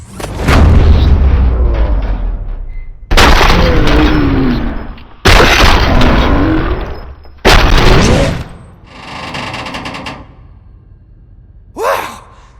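Gunshots from the RoboCop: Rogue City video game: four loud, heavy blasts in quick succession, each with a ringing tail, followed by quieter rumbling and a short sharp hit near the end.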